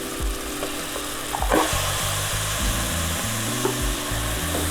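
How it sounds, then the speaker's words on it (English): Half a kilo of mutton frying in a pan for spicy mutton sukka, sizzling loudly up close as a spatula stirs and scrapes through it with a few knocks, no talking. "here goes half kg of mutton meat"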